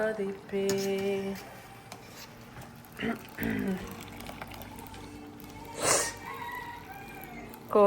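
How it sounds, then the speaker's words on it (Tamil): A chicken clucks and crows outdoors near a kitchen where chicken biryani is cooked, giving a few short calls and then one louder squawk, with voices talking quietly in between. "கோழியும் கத்துது."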